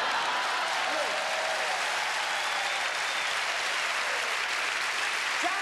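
Audience applause at a comedy and juggling show, a continuous, loud, dense roar of clapping from a large crowd that holds steady throughout.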